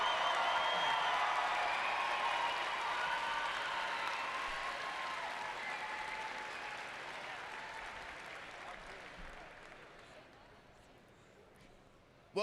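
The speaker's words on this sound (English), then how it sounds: "Let's give him a round of applause." Sustained applause and crowd noise from a high school graduation ceremony audience for a graduating student, steady and dense at first, then slowly fading over about twelve seconds before a sudden final sound.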